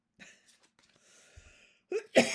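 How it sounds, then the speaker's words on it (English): A soft throat-clearing sound is followed by a sharp, forceful cough at the end, close and fairly loud. "I don't know why I'm coughing"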